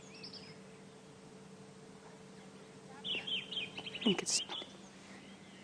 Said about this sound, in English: listening to alarm calling birds